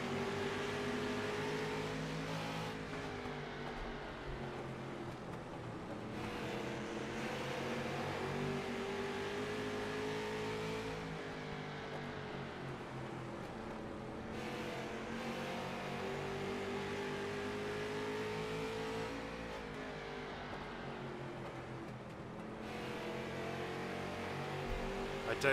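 Street stock cars race in iRacing at South Boston Speedway, running two by two, with steady engine drone that rises and falls in pitch through laps as the pack runs together, and commentary heard over the engines.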